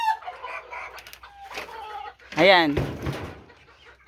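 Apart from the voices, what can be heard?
chickens clucking and crowing at a chicken farm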